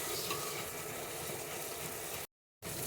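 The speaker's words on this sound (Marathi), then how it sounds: "तेलात चांगलं परतून घेऊया" Onion and tomato sauté in oil over a medium-to-high flame for a chicken pulao, a dense, steady sizzle close up that briefly cuts to silence near the end.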